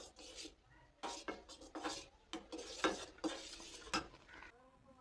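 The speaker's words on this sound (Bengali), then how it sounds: "দুধের মধ্যে বলক চলে আসছে। 1 কাপ চালের গুঁড়া দিয়ে দিয়েছি। এখন আমি ডো বানিয়ে নিব।" Rice flour being stirred into boiling milk to form dough for kadam puli pitha, with a spoon scraping and thudding irregularly against the pot in short bursts, fairly quiet and close, with no talking.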